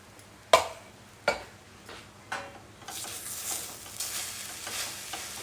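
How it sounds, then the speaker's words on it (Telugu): Food being stirred in a cooking pan, a few sharp spoon knocks on the pan at roughly one-second intervals, then a soft continuous sizzling scrape, with no talking. "ఈ విధంగా బాగా కలుపుకోవాలి"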